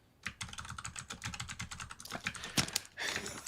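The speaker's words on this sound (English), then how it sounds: "the new stream where we just listen to typing all day" Rapid clicking of keys on a computer keyboard, steady irregular keystrokes close up with a few louder presses near the end and no talking.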